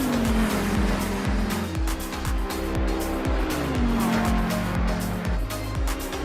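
Race cars roar past in Assetto Corsa Competizione during a simulated 24 Hours of Spa, loud layered engines with rising and falling pitch, repeated gear-change drops and occasional tire squeal, no talking.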